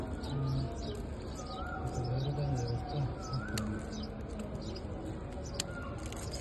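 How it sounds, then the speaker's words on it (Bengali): A pigeon coos nearby in a few soft, low, rolling calls, with small chirps and a faint murmur of voices in the background. "কত সুন্দর কবুতরটা"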